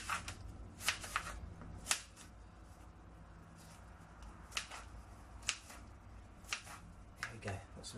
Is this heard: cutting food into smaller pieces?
yes